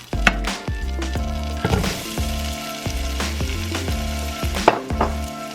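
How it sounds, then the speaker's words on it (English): Shallots and tomatoes sizzle in olive oil and butter in a pan, with a steady frying hiss under a continuous tonal hum, marked by a few sharp clinks and knocks. "First thing I want to drop in there is my shallots. Drop those in there and put my tomatoes in there."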